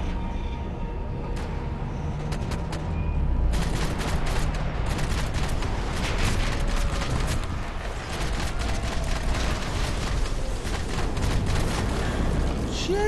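Sustained bursts of gunfire from the video game Max Payne 3, a dense loud barrage of rapid shots and booms that goes on nearly continuously after a brief quieter start, with a voice shouting over the shooting.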